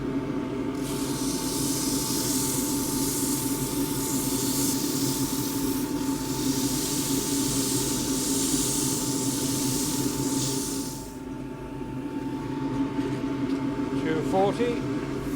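A large crossgrain wooden box spins on a lathe as 180 grit abrasive is held against it, giving a loud steady hiss over the motor hum in two long passes with a short break between them.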